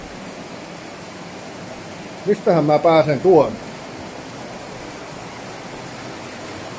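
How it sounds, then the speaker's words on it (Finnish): A small river rapid at the ruins of an old hydroelectric power plant gives a steady, moderate broadband rush throughout, with someone briefly speaking over it partway through. "Koski kohisee, vaikkei siinä paljon vesi virtaakka."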